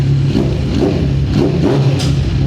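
A Kawasaki Z1000 R inline-four 1000cc motorcycle with a new exhaust revs up close and loud in several quick, rising blips over a deep, rumbling idle.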